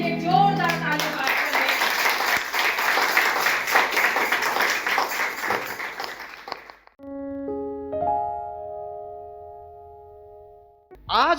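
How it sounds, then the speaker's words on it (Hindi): A church congregation breaks into loud sustained applause for several seconds, a dense crowd of clapping hands that then fades out. Held musical tones follow. "आइए हमारे परमेश्वर के लिए जो जीवित है उसके लिए जोरदार ताली बजाएं"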